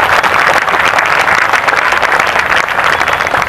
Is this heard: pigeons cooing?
no